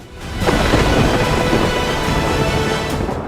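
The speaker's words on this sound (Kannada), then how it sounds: "ಮಳೆ ಇದು ಅಂತಿಂತ ಮಳೆಯಲ್ಲ" Heavy monsoon rain pours down in a loud, steady roar with a deep rumbling underneath, continuous and unbroken throughout.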